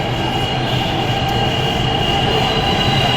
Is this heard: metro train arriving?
yes